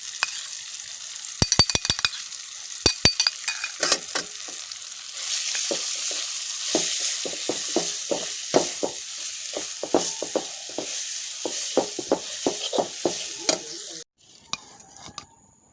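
A wooden spoon stirs a ground coconut mixture into cooked long beans frying in a pan for a traditional palya, giving a steady close sizzle with repeated scraping strokes that stop abruptly near the end.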